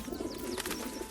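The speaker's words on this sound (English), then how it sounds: "And I can hear pigeons." Pigeons in the video game Baldur's Gate 3: soft, low rolling coos repeat in a steady murmur, close and moderately quiet, with no one talking.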